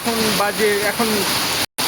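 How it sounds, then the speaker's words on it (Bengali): Heavy rain pours onto a street on the day of the Rath Yatra festival, a steady close hiss that fills the whole stretch while a voice is heard over it. "এখন কি পরিমাণ বৃষ্টি হচ্ছে"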